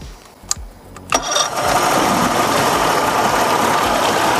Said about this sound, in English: with the throttle lever still, make sure this is all the way to the stop. Okay, now start it up.